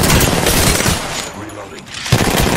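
Rapid gunfire in the Apex Legends battle royale game, loud dense bursts of shots that dip briefly mid-way and resume, with a voice speaking over the action.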